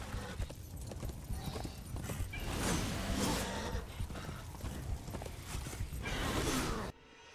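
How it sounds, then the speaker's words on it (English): Galloping hoofbeats and clashing, whooshing combat sounds from a horse fight in the video game Darksiders: Warmastered Edition, loud and continuous, cutting off abruptly at the end. "Horse fighting."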